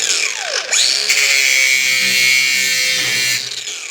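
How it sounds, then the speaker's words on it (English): A grinder spins up against a steel exhaust manifold from a 1954 Chevy, whining steadily at a high pitch for a few seconds before it winds down, loud and close. "I guess the way to tell is you take a grinder, and depending how it sparks will tell you a lot."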